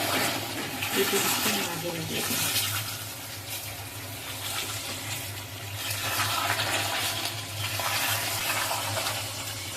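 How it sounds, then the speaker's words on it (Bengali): Broiler chicken pieces frying with a ginger tempering give a steady, dense hiss and sizzle close by, with a low background hum and occasional stirring. "এবারে মাংসের মধ্যে এই আদার ফোড়নটা আমি দিয়ে দিব।"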